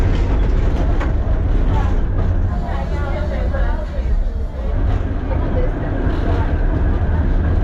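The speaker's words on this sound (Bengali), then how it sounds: "খেলা দেখে ট্রামে চড়ে ফেরত সিটি সেন্টারের দিকে।" Riding a tram through Sofia, Bulgaria: a constant loud rolling rumble of the car on the rails, with murmuring passengers and faint squeals in the background.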